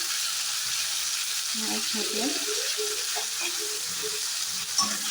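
Onion and garlic frying in a pan for a cauliflower and potato dish: an even, close sizzle that holds steady throughout, with a faint voice briefly murmuring underneath partway through.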